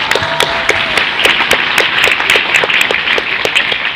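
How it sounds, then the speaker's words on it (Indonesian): Audience applause at an Islamic sermon, a dense, steady wash of many hands clapping, loud and close throughout, with no voices over it. "Tepuk tangan buat kita semua."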